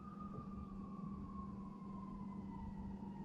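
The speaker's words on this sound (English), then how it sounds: "Sirens are rolling off in the background." An ambulance siren in Canada wails faintly in the distance, its tone sliding steadily downward in pitch as it passes, over a low rumble of traffic.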